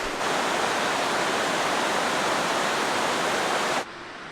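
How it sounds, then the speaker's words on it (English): Overflow from a dam pours into a river, a steady broad roar of rushing water heard close and fairly loud, cutting abruptly quieter just before the end, with no voices. "this is the overflow from the dam"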